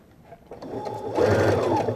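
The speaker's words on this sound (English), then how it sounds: "I'm going to come into my sewing machine." Home sewing machine stitching tie interfacing to the raw edge of a jacket piece during garment construction, a close, steady mechanical whir that swells louder in its second half and runs on alone.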